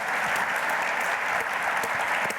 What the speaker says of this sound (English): Big round of applause for Demetrious Mighty Mouse Johnson.